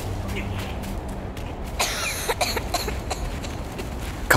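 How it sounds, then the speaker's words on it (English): Coughing from a character in the action game Black Myth: Wukong, a few short rough bursts midway through, heard over steady game ambience and background noise. "Coughing?"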